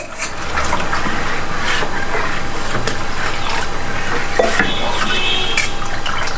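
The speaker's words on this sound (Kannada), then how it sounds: "ಕನ್ಸಿಸ್ಟೆನ್ಸಿ ನೋಡಿಕೊಂಡು ನೀರು ಆ್ಯಡ್ ಮಾಡಬೇಕು" Water poured into neer dosa batter, a steady liquid trickle with faint drips and stirring clinks, continuous and fairly close throughout.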